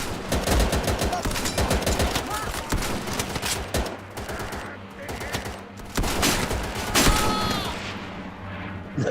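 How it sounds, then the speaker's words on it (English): Sustained gunfire in the video game Easy Red 2 on Xbox, with dense overlapping rifle and machine-gun bursts and distant booms throughout a battle, interrupted by occasional shouted voices. "Got covering fire!"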